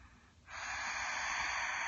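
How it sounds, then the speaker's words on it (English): Ujjayi breathing drawn through a closed mouth during a hip hop hatha yoga session: a quiet pause, then one long, close, steady hissing breath that keeps on to the end. "That's called Ujjayi breathing."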